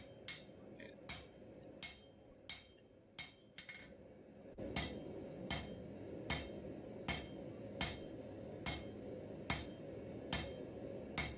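A blacksmith hammers rebar to draw out a taper, striking metal in sharp ringing blows at a steady, roughly even pace, close and clear, with a short pause before the strikes grow louder and continue.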